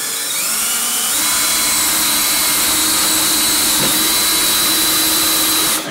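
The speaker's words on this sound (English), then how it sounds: "when I'm drilling through this, it's really nice and meaty, and you see all the wood come out from the drilling" Power drill boring steadily through a wooden doorway frame, a loud continuous whining motor with a sustained high-pitched buzz that runs unbroken for several seconds, close to the listener and alone with no talking.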